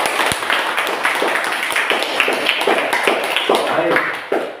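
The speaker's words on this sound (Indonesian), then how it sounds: "Tepuk tangan untuk mereka" A classroom of students applauding presenters, a loud, close burst of dense, uneven clapping with voices mixed in, fading slightly at the end.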